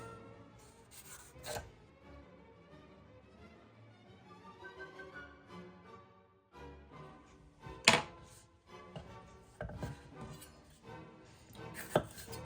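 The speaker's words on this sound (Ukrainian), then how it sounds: "великими дольками нарізаємо його приблизно отак" A vegetable cut into large chunks with a knife on a board, heard as scattered quiet cuts and a few sharper thunks separated by pauses, close by.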